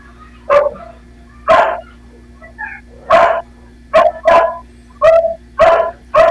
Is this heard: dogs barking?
yes